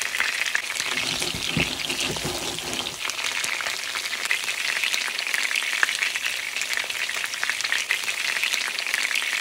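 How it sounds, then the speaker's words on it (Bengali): Chicken kofta meatballs frying in hot oil, a continuous bright sizzle that holds steady throughout, with a few soft clinks of a utensil early on. "চিকেনের বলগুলোকে আমি একটু ভালো করেই ভাজবো, তাহলে এর থেকে একটু সুঘ্রাণ বের হয়।"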